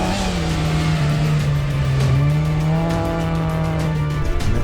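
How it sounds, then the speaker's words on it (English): A classic Ford Escort rally car slides sideways on gravel at full throttle, its loud engine holding a steady high drone with tyre scrabble and flying stones close by, with no talk over it. "Nothing like an original version of the Escort rally car lit up with a big"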